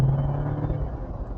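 A 2024 Jeep Wrangler Rubicon with its 2.0-liter turbo engine pulls hard, giving a close, steady low rumble with a droning note that holds through a short burst of acceleration.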